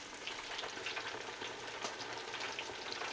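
Hot oil bubbles and crackles around catfish in an electric fryer, a continuous close sizzle with small pops scattered through it and no talking.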